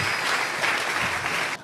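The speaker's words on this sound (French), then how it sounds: "Est-ce que nous pouvons acclamer le Seigneur?" Church congregation applauding together to acclaim the Lord during a service, a steady dense wash of clapping that holds at an even level and then drops off abruptly near the end.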